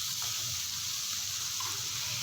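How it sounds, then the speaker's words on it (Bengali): Potatoes and beans frying in oil with onion over a medium flame, giving a steady, close, dense sizzle that holds evenly throughout with no voices. "রেখে খুব ভালো করে তেলের মধ্যে আলু শিমটাকে পেঁয়াজের সাথে একই সাথে ভাজা ভাজা করে নেব"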